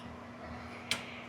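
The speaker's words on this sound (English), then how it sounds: "Press it on until you hear" A fuel line connector on an S&B 64-gallon fuel tank for a 2011-19 Chevy Silverado or GMC Sierra 2500/3500 snaps into place with one faint, sharp click against a quiet background hum.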